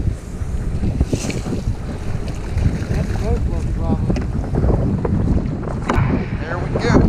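A fishing boat's rear trolling motor runs on a windy lake while jigs are dragged for smallmouth bass, a low steady drone buried under constant wind buffeting and lapping water.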